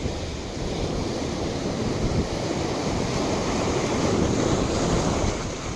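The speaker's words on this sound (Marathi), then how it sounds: "भरती चालू आहे फुल खतरनाक वाली" Rolling sea waves surging and washing in at high tide, a constant roar mixed with wind buffeting the microphone; no voices.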